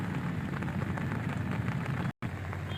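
Rain falls steadily on a garden during the monsoon season, a dense close patter that stays even throughout with a brief dropout near the end.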